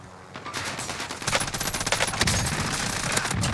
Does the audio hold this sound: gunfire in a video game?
yes